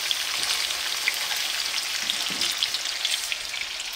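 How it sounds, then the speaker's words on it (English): Duck chunks seasoned with burger seasoning fry in bacon grease alongside the bacon, giving a dense, even crackling sizzle with faint pops throughout, close and alone without talk. "we're gonna cook it right in the grease right with the bacon"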